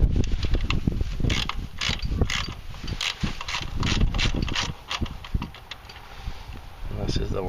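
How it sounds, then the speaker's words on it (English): Ratchet wrench clicking while tightening bolts on a Nissan Titan or Armada throttle body during a throttle body spacer install, rapid repeated mechanical clicks in bursts, close up, with a person talking intermittently. "And this is the worst ratchet ever."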